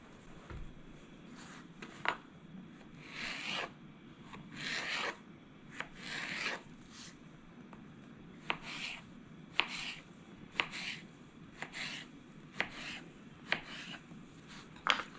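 Repeated knife cuts through a homegrown zucchini on a kitchen board, a steady series of close, crisp slicing strokes with a few sharper knocks, alone without talk.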